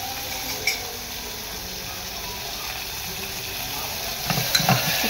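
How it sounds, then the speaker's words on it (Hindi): Sambar vegetables, including chopped pumpkin, carrot and tomato, are stirred with a spoon in a pan, giving a steady wet sizzling hiss and a few soft scraping clinks near the end, with no talk. "आप चला लीजिए चम्मच की मदद से"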